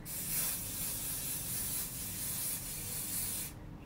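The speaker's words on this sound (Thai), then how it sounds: "เริ่มสเปรย์แล้วนะแล้วก็สเปรย์ขึ้นลงขึ้นลงซิกแซกไปนะคะ" Aerosol hair spray hisses in a steady broadband burst while being swept up and down in a zigzag over the hair, held close and continuous for about three and a half seconds before cutting off.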